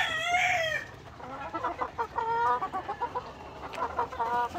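Chickens cluck repeatedly in a poultry pen on a farm while a rooster crows at the start, with soft background farm noise throughout and no talking.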